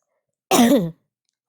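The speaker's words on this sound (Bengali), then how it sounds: "একটু ভয়েস দিতে দিতে একটু কাশি হয়ে যাচ্ছে" A single short, throaty cough, close and fairly loud, with a brief rasping tail, surrounded by silence.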